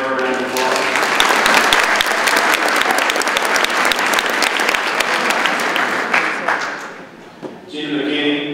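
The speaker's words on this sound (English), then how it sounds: "give her a round of applause" An audience at a Hardin County Conservation District awards banquet breaks into loud, sustained applause, thick clapping that swells for several seconds, then tapers off as a voice begins speaking.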